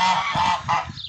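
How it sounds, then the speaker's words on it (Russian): A lost duck gives several loud, nasal, honking quacks in quick succession, close by and with no talking over it. "утка"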